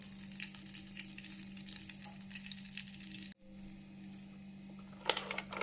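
Cumin seeds sizzle and crackle in hot oil in a kadhai, a steady close frying hiss with scattered pops, briefly cut off midway and then resuming, louder spatter near the end; no talking.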